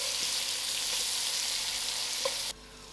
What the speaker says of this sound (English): this brinjal has to come to a complete fry